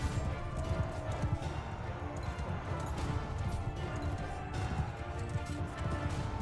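Hooves of a horse galloping in the Mount & Blade II Bannerlord video game, a dense rhythmic clip-clop of fairly close hoofbeats amid battle clatter and background noise, without speech.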